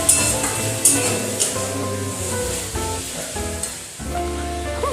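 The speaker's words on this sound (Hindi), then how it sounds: "तो चलिए हम सरसों को अच्छे से भून लेंगे।" Mustard seeds roasting in a hot pan for a bottle gourd dish, a continuous close sizzle with crackling pops and the scrape of stirring, steady and fairly loud throughout.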